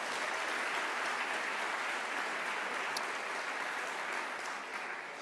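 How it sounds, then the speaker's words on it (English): Steady, dense audience applause for business chambers at a New Mexico governor candidate forum, a continuous wash of many hands heard from a distance with no talking over it. "Let's give all the chambers a round of applause for doing this."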